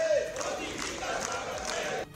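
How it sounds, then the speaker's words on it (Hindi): BJP MPs applaud and cheer Prime Minister Modi as he arrives at a party meeting, a roomful of clapping and raised voices at moderate distance that cuts off abruptly near the end. "पीएम मोदी का बैठक के लिए आते ही तालियों की गड़गड़ाहट और माला पहनाकर जोरदार स्वागत किया गया"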